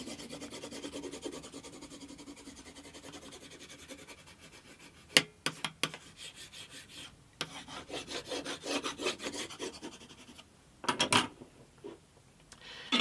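Burnishing a guitar fretboard by hand rubbing during an acoustic guitar build: quiet scraping and rubbing strokes, irregular at first, then in rhythmic bursts with brief pauses, close up and without talk.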